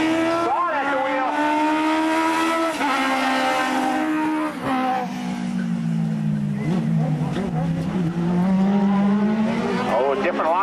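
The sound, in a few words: race car engine downshifting at raceway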